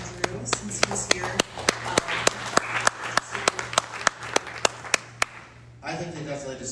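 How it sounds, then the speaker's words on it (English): A crowd at a voting Q&A event applauds after a speaker, with sharp individual claps standing out over a dense round of clapping that fades near the end as a voice begins. "I think they definitely deserve a larger round of applause than that."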